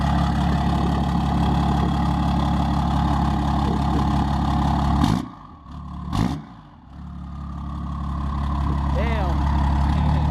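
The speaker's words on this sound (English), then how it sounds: "Just blip the throttle." Nitrous-fed Cummins diesel truck engine idling loudly nearby, then briefly blipped twice with short throttle bursts before settling back to a steady rumble.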